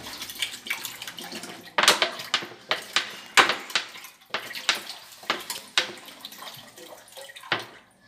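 Water, one and a half litres, poured onto rinsed rice in a kitchen pot, heard as a series of close splashing gushes and clinks recurring in short bursts.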